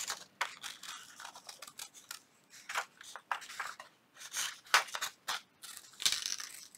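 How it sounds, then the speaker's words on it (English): Scissors cut loosely through envelope paper in a quick series of crisp, close snips with brief pauses, quiet and alone without talk. "Just loosely cut it out."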